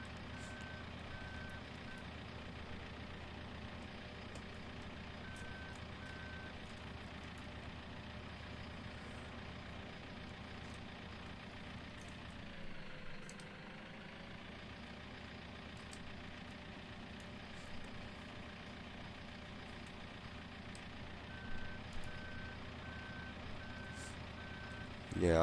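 In Farming Simulator 15, a tractor tips muck from a full muck tank, a low, steady machinery hum with a dip in the middle and repeated beeping, faint and continuous.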